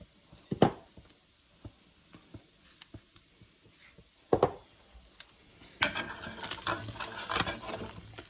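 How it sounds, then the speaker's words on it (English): Ground hamburger and flour frying in a pan for hamburger gravy, faint crackle with scattered clicks and utensil taps, then a louder stretch of sizzling and stirring toward the end. "we'll fry this a little bit until our flour's nice and fried"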